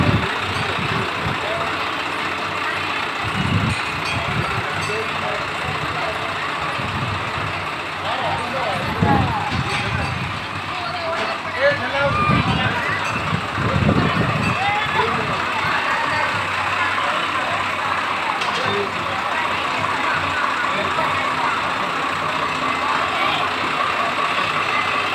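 Tractor engines idle at the Medaram Jathara festival, a steady low rumble running throughout beneath crowd noise and people talking, with a few louder thumps in the middle.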